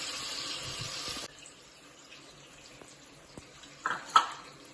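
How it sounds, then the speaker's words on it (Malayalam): Water poured from a tap-like stream into tomato masala in a pan: a brief rushing pour at the start, then quiet kitchen sounds with a few faint clinks and a short sizzling splash near the end. "ഇച്ചിരി പൊട്ടിക്കൊരു വെള്ളം കൂടെ ആഡ് ചെയ്യണം കേട്ടോ"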